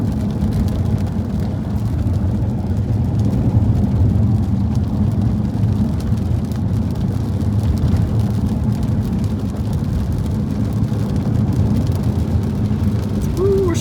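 An Audi R8 drives along the muddy Dalton Highway with a continuous loud rumble of engine and tyres. Mud and spray hiss steadily around it the whole time.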